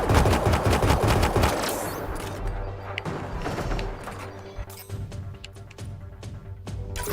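Rapid automatic gunfire from incendiary ammunition in a sci-fi video game, dense bursts of shots up front that thin into scattered cracks and impacts over a steady low engine-like hum.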